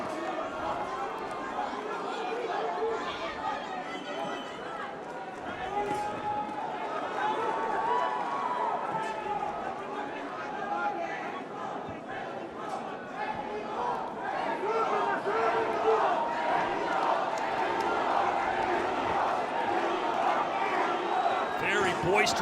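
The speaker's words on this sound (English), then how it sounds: "Very boisterous crowd here in Abu Dhabi. They have come to life for our main event." A boisterous boxing crowd fills an Abu Dhabi arena with a steady roar and chatter that swells toward the end, under continuous ringside commentary.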